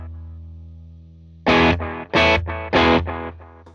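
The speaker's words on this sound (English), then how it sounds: "It's the clean sound again, but this time it has some delay on it" Clean electric guitar through a worship pedalboard with delay engaged, three strummed chords ringing out loud and close, each followed by fading delay repeats over a low amp hum.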